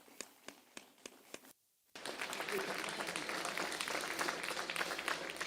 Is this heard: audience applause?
yes